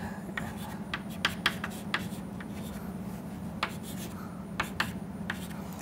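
Equations are written on a board during a thermal modelling lecture: scattered sharp taps and scratchy strokes come in short bursts over a steady low room hum, with no talking.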